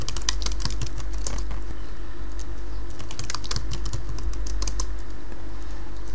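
Fast, steady typing on a computer keyboard while writing Java code, with continuous clattering keystrokes close to the microphone and a constant low hum underneath, without speech.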